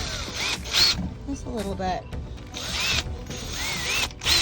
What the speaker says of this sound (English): So I'm just using the drill